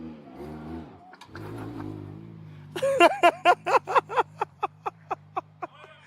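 A car with a 2JZ-GTE engine and R154 gearbox revs hard as it pulls away, the pitch sweeping upward, then breaks into a rapid, steady pulsing stutter that slows and fades, with faint voices early on.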